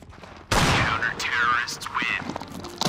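Sharp Counter-Strike 2 gunfire bursts in quick succession after a brief quiet start, loud and close, with electronic whooshes and effects layered over them.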